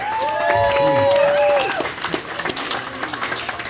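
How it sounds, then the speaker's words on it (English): Applause and cheering from an audience at a live music venue swell and then thin into scattered clapping, while a voice speaks loudly over the start. "Let's give her a big round of applause."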